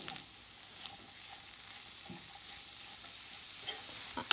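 Onions fry in a hot pan for Guyanese cassava surprise, producing a continuous even hiss and sizzle at close range, with a few soft stirring taps near the end and no voices.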